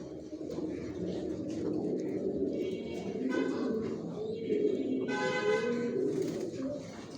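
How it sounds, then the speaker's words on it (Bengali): Racing pigeons in a breeding loft coo continuously in soft, overlapping rolling calls, with a few louder bursts of cooing standing out near the middle and end. "কত কবুতর আছে আমি নিজেও জানি না"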